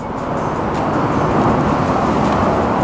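A modified Ninebot electric go-kart pulls away under gentle throttle, giving a continuous, fairly loud broadband roar of motor and tyres that holds steady for a few seconds.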